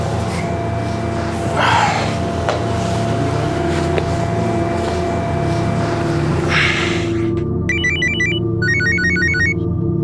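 Electronic phone ringtone in a tense crime-drama scene, a repeating high-pitched tonal pattern that starts midway over a steady hum of background noise, with a couple of soft breathy bursts before it.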